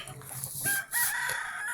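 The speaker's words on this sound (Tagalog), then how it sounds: "Ayan, mga alaga nating mga manok." A backyard rooster of the Gilmore breed crows once, close and clear, a short drawn-out call with a brief break in the middle.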